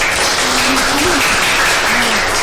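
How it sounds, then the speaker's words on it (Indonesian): A classroom audience gives brief applause during a university teaching session, a dense steady wash of clapping with a faint voice underneath. "kita berikan tepuk tangan untuk"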